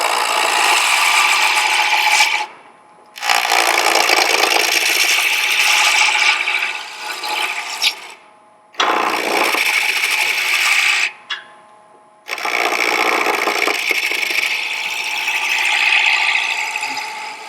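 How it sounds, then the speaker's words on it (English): A spindle roughing gouge cuts a spinning wood blank on a lathe in long, loud, steady passes broken by several brief pauses, close up with no talk. "I'm just using a spindle rough and gouge because I think it's one of the best tools for this."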